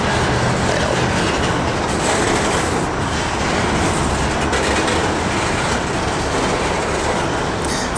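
Norfolk Southern train of empty rock cars rumbling past close by, a loud, continuous roar of rolling wheels with steady clickety-clack rhythm and occasional metallic squeal.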